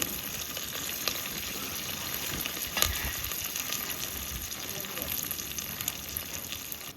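Sliced onion and curry leaves sizzling and frying in hot oil in a clay pot, a steady close crackle with a few sharp spits, continuing alone without talk.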